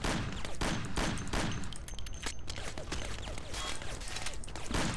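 Tommy gun fire in the 1930s crime video game Mafia comes as fast, dense bursts of rapid shots with mechanical clatter, fairly faint and continuous across the whole stretch, with no voices.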